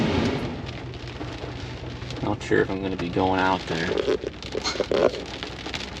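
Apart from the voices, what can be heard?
rain falling as a dust storm arrives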